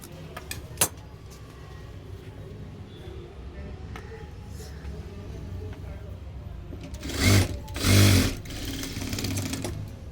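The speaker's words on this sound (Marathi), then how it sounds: "प्रत्येक टक्सला आपल्याला डबल शिलाई घ्यायची आहे" Sewing machine stitching tucks on a blouse, a low steady hum through most of the span, swelling into two louder runs of stitching near the end, with a few clicks at the start.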